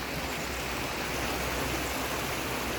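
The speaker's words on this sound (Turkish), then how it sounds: "Yağmur çiseliyor" Light drizzling rain near the Hacıkadın stream landslide zone in Ankara, a dense, even hiss of fine rain with constant broadband wash and no break or voice.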